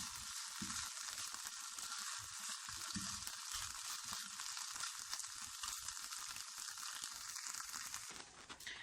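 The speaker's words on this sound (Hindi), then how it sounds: "इसको थोड़ा सा फ्राई कर लेंगे।" Chicken tikka sizzles steadily in a frying pan, a dense, continuous crackle with occasional stirring scrapes, heard close and without talk.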